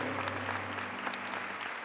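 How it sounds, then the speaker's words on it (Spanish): Congregation in church clapping during a sermon, a soft continuous patter of many hands heard at a distance, with a low hum underneath. "Denle un aplauso, Señor, solo por su sangre"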